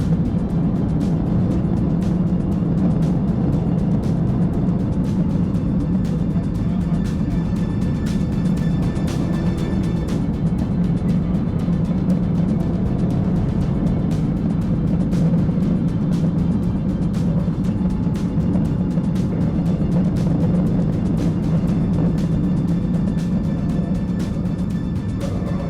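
A car fleeing police at over 130 miles per hour into oncoming traffic gives a loud, steady roar of engine and road noise with scattered sharp ticks, continuous for the whole stretch with no talk.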